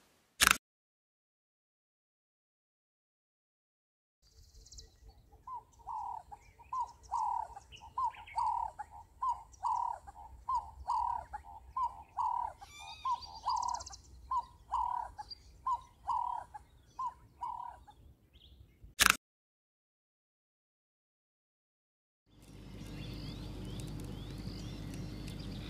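A zitting cisticola calls in Kruger National Park, repeating short sharp chirps in a steady rhythm for about fifteen seconds, moderately close and alone, followed by a burst of broadband outdoor noise.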